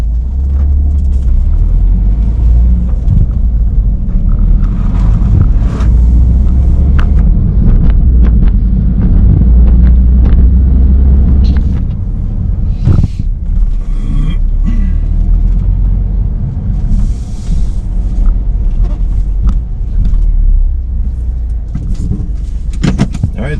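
Steady low rumble from inside a car driving through town, with road and wind noise, occasional bumps and clicks, and someone talking over it.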